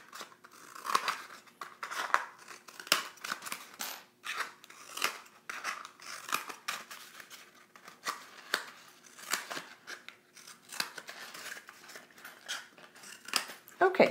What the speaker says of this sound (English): we're going to come around and cut 1 inch slots on the opposite side